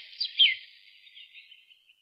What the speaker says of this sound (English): Pretty birds flit from tree to tree.